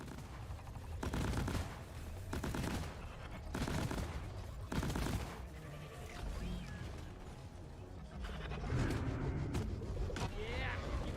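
Sentry guns blast away in Deep Rock Galactic, dense bursts of rapid automatic fire coming in waves over a noisy battle din, with voices talking throughout.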